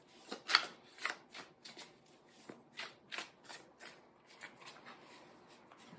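Tarot cards being shuffled by hand in a series of crisp riffling bursts that arrive in irregular clusters and stay close and moderately quiet, with no talking.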